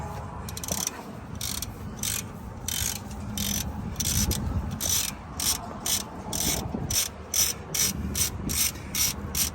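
A ratchet clicks in steady bursts while working 21 mm brake caliper retainer bolts loose on a 2006 Dodge Dakota 4.7 4WD, close and clear, with repeated rhythmic ratcheting strokes and no talk.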